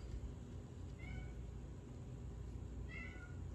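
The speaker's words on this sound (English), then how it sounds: "My cat back here meowing." A house cat meows twice from a little way off, short faint calls about two seconds apart under a steady room hum.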